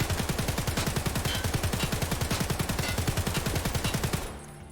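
Rapid automatic SA-58 rifle fire in the video game Escape From Tarkov, a steady burst of dozens of loud, close shots in even rhythm that stops abruptly near the end.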